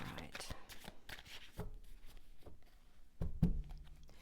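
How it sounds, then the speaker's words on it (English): Quiet, quick shuffle of a tarot deck, with soft riffling and tapping card sounds under a speaking voice. "let me just give these a quick shuffle"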